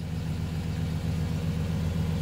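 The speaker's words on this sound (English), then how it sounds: "it's idling pretty decent now" A 1995 Impala SS engine idles steadily, with a low, even rumble that holds without change and no voices.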